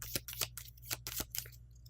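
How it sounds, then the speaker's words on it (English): Decks of cards for the board game Imperius being shuffled by hand, a quick run of crisp riffling bursts in an uneven rhythm, close and fairly quiet over a low steady hum. "I'm going to shuffle up each of their decks"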